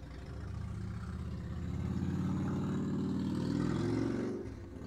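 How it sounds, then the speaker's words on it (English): A motorbike passes outside, heard as a continuous low engine rumble that swells and fades over a few seconds, muffled as if through walls, with no talk. "that's the motorbike gone, guys."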